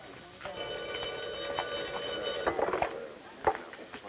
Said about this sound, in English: You ever tempted to cut the phone wire, Martha?